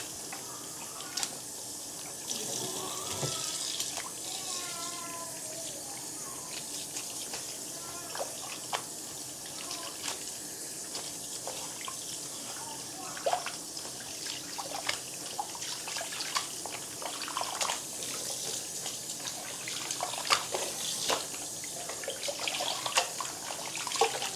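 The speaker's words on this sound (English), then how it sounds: "So I will use lukewarm water." Lukewarm water runs from a tap over a wig's hair while it is rinsed, a continuous soft splashing and trickling that stays fairly quiet and close throughout.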